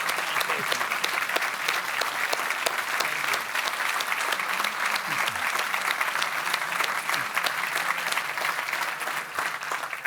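Loud, continuous applause fills a hall at a NATO summit defence industry forum, a dense, even wash of many hands clapping without letup, with faint voices underneath.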